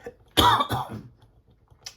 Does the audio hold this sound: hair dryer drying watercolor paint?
no